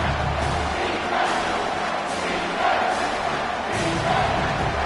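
Loud, relentless football stadium crowd noise during a second-down play, a thick roar of voices with periodic swells and surges of shouting rising over the steady din.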